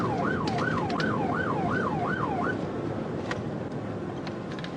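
Police car siren on a U.S. highway during a high-speed chase, a fast wailing yelp cycling about six times over a steady roar of road and engine noise, then cutting off, leaving only the rushing drive.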